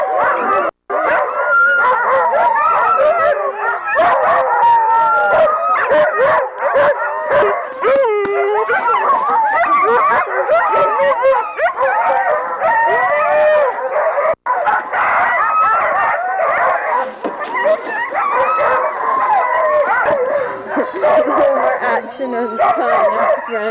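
Several dogs howl and yip together in a long, continuous wavering chorus, loud and close, with occasional sharp barks and whimpers mixed in throughout.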